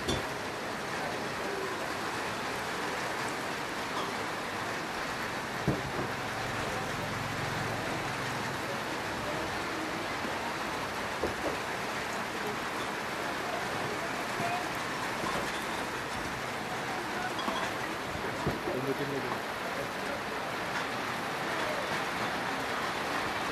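Steady rain falls throughout, a dense, even hiss with scattered drops, heard while food is grilled for satay, with faint voices and a few brief knocks in the background.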